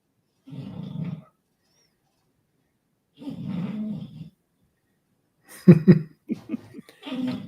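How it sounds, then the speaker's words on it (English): A dog snores in low, rumbling drawn-out breaths, two long separate snores followed by a rougher cluster of snorts, close and fairly loud in an otherwise quiet room. "she's up here already snoring. Yeah, she's sawing his logs."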